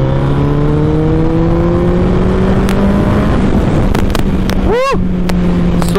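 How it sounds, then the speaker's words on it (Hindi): A Suzuki Hayabusa motorcycle accelerates along an empty road in Chandigarh, its engine note climbing steadily and loud throughout, with a sharp rising sweep near the end. "तो बस इतना सा पुश लो भाई बाइक के साथ, बाइक जो है वो आपकी अच्छी खासी स्पीड पकड़ जाती है।"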